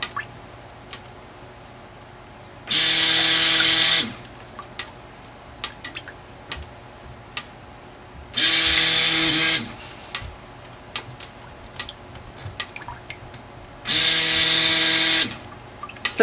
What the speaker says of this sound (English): that's where you're mixing the lye and the oil together